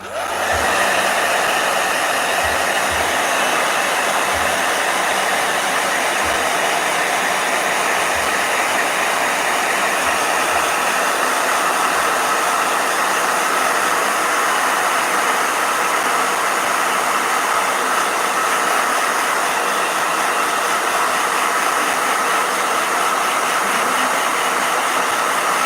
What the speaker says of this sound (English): the blow dryer really does hit different in Bluetooth headphones